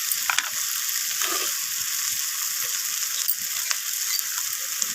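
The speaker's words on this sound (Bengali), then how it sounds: "তো লবণটাকে দিয়ে আমি আবারও নাড়াচাড়া করে মিশিয়ে নেব।" Bhetki fish bones with onion, potato and salt are stirred in a sizzling pan, the spatula scraping in irregular bursts over an unbroken frying hiss, close and fairly loud.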